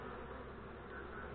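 Honeybees buzz faintly inside a small nuc box during a Malaysian beekeeping transfer, a soft, steady hum with no other sounds over it.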